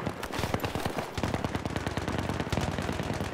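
Rapid gunfire in a video game, a dense stream of sharp shots rattling on continuously and fairly loud, with no talk over it.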